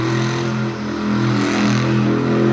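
A monster truck engine revs hard as the truck spins a donut on a dirt freestyle course, a loud, steady, throaty roar with a brief dip and then a surge, heard close and alone.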